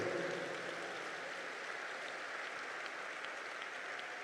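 Steady, soft applause from a church congregation during a sermon, an even wash of clapping heard at some distance for a few seconds, with no voices over it.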